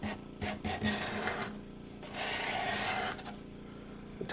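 A freshly sharpened hand scraper drags across a wooden surface, stripping off old finish in steady rasping strokes, close and fairly loud, with short pauses between passes.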